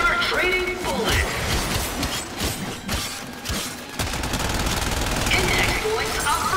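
Rapid bursts of automatic gunfire and shots crackle through a Warframe firefight, dense and loud throughout with mechanical clatter, while voices talk over the action.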